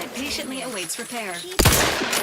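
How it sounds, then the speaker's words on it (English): A burst of automatic gunfire from a gun in The Outer Worlds 2 erupts suddenly and loudly after a stretch of talking, dense and sustained to the end. "There's too much recoil in this gun."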